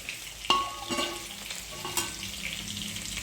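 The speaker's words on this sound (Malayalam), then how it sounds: "നമ്മളുടെ കറി നന്നായി തിളയ്ക്കുന്നുണ്ട്" A Tamil-style onion theeyal curry bubbles in a pan with a quiet sizzle, punctuated by a few sharp stirring clinks near the start and middle; no one speaks.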